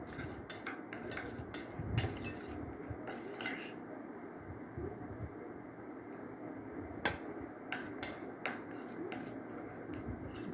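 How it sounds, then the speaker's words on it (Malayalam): A spoon scrapes and clinks against a bowl while stirring ground powder into coconut oil, irregular scraping strokes with occasional sharp taps, close and fairly quiet, no voices. "ഇത് നമുക്ക് ഒരു സ്പൂൺ എടുത്തിട്ട് കുറച്ച് വെളിച്ചെണ്ണയിലോട്ടൊന്ന് ചാലിച്ചെടുക്കാം."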